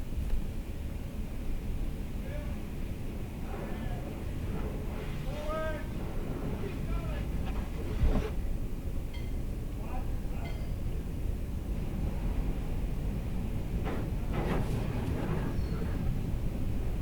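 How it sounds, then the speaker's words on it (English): Inside a vehicle going through a car wash, the machinery gives a constant low rumble and rushing wash noise for the whole stretch, with occasional squeaks and thumps and voices talking over it. "Going through the car wash, going through the car wash"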